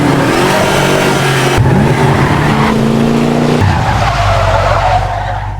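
A car driven recklessly, its engine revving hard as the tires squeal and skid loudly across the pavement, the screeching sustained and close throughout.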